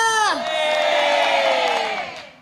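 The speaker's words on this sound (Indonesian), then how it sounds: "Mana tepuk tangannya? Mana semangatnya?" A studio audience at an Indonesian Islamic talk show raises a loud, sustained collective shout of cheering that starts with a falling cry and holds for about two seconds before fading.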